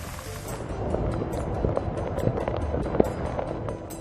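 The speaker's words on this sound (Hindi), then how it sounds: "मंदिर के पवित्र शिखर पर हो रही मूसलाधार बारिश को देखकर लोग मंत्रमुग्ध हो गए।" Torrential monsoon rain pours onto the spire of Somnath temple, a steady, dense hiss of downpour with no pauses, loud and continuous throughout.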